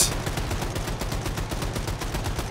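A mounted machine gun in Wolfenstein 2 fires a loud, close, sustained burst of rapid, evenly spaced shots, roughly a dozen per second, with no voices over it.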